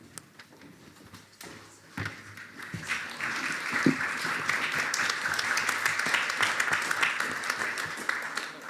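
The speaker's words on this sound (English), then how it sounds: "Please give it a round of applause." At an investment forum, an audience starts with a few scattered claps and builds into full, sustained applause that stays steady to the end, with faint voices beneath.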